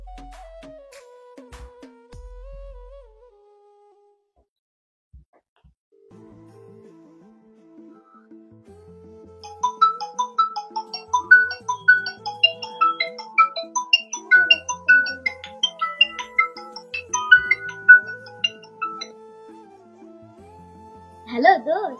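A mobile phone rings out while calling a friend in a Bengali social drama, a long melodic ringtone of quick repeating notes playing loud and clear on its own after a few faint electronic tones and a short pause.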